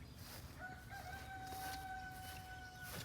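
A rooster crows faintly in the distance among a backyard flock of hens and roosters, one drawn-out call over a steady outdoor hum.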